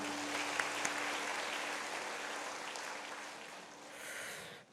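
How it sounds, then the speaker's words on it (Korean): A church congregation claps together in a dense, steady wash of applause that holds evenly for several seconds before fading out, with a faint background hum beneath. "옆에 분을 위해서 한번 박수하죠"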